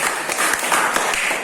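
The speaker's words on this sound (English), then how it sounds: "Please clap for them." A seventh-grade English class claps for fellow students, a steady dense patter of many hands throughout a short burst, moderately loud and without talk.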